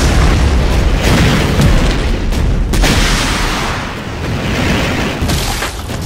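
Explosions pound a base during an attack in the Empires mod for Half-Life 2, a loud, continuous barrage of deep booms and rumbling blasts that overlap with no pause.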